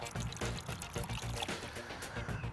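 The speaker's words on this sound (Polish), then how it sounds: "dolewamy wody" Water is poured into a container of liquid while fishing groundbait is prepared for float and feeder fishing, a soft, continuous splashing trickle heard close up for a couple of seconds.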